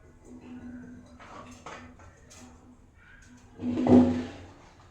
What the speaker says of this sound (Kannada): ಇವಾಗ ಪಾತ್ರೆ ಬಿಸಿ ಮಾಡಲಿಕ್ಕೆ ಇಟ್ಟಿದ್ದೇನೆ.